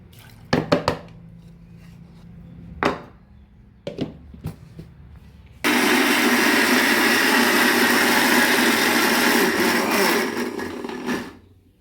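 A mixer grinder grinds a batch of soaked whole samba wheat for halwa: a few short clattering bursts, then a loud, steady, high-pitched whir runs for about six seconds before winding down.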